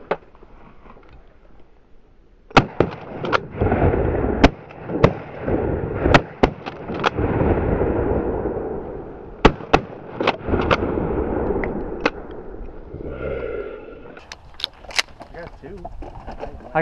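Shotgun blasts during a Michigan duck hunt on opening weekend: a rapid volley of sharp, loud shots, some in quick pairs, over steady outdoor noise, with hunters talking throughout.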